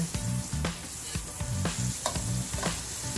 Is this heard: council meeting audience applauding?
no